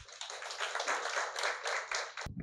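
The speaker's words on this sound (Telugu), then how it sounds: "Please clap for your self." An audience at a spiritual lecture on the Mandukya Upanishad applauds, a dense, even round of many hands clapping at moderate distance that runs steadily for a couple of seconds before cutting off abruptly.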